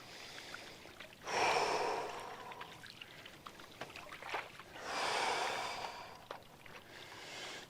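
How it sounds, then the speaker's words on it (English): Two slow, deep breaths come in close to the microphone, each a soft airy rush lasting about a second, set apart by several seconds of quiet water and background noise just before paddling a kayak with a large sprint paddle. "A few deep breaths here."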